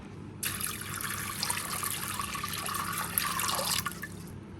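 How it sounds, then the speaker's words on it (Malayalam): Water poured steadily into a pressure cooker holding soaked chickpeas, a close, continuous splashing pour lasting about three seconds before tapering off, with no talk. "നമുക്കിതിലേക്ക് വേവിക്കാൻ ആവശ്യത്തിനുള്ള വെള്ളം ഒഴിച്ചു കൊടുക്കാം"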